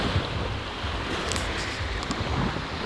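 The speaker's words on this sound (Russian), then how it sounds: "Болтаем, слушаем шум волн." Sea surf washes onto the shore at Sochi in a steady, loud wash of breaking waves mixed with gusty wind noise on the microphone, with no talking.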